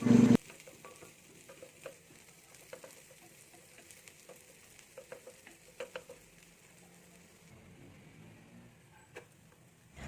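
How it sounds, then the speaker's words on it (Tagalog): Onion sautéing in a pan for chicken afritada, a quiet steady frying hiss broken by soft irregular clicks and taps of stirring after a brief loud clatter at the start. "Let's saute the onion for 30 seconds."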